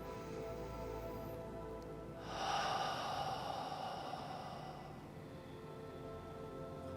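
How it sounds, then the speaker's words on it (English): A single slow, deep breath, audible as a soft breathy rush that rises and fades over a few seconds against a quiet, steady background hum. "Let's take a nice deep breath now."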